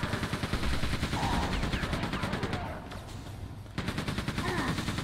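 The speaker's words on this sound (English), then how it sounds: "send a BFG in here" Weapons fire in Quake II, including the BFG, comes as dense, continuous gunfire and explosive bursts that fill the mix, with a brief lull near the end before firing resumes.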